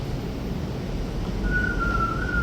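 A single thin whistled note rises in partway through and holds steadily over a low background hum, fairly faint and without any talking.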